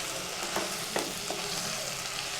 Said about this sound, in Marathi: तेल त्यानंतर बटर आणि कांदा लसूण याच्यामध्ये आपण ह्या भाज्या थोड्याशा परतून घेऊया